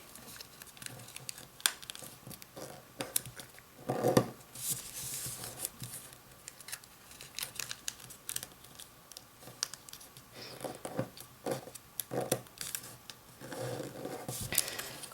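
Paper is folded into an origami ninja star, producing soft, close crinkles, taps and creasing rustles scattered irregularly, with occasional sharper crackles.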